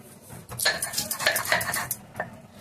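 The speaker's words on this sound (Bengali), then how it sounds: "এবার রসুন, পেঁয়াজ ভাজা, কাঁচা লঙ্কা এগুলো বেটে নেব।" Rhythmic, rough scraping strokes close by as a grinding stone is rolled back and forth over a slab grinding garlic, fried onion and green chillies, in a few bursts with short pauses.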